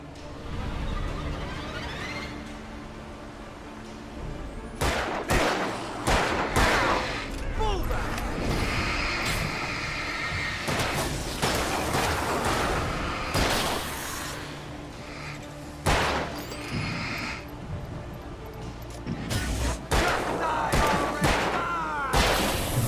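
Enemies fire guns in Alan Wake, repeated sharp shots and bursts scattered across the fight, mixed with game noise while someone talks over them.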